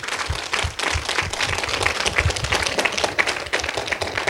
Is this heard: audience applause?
yes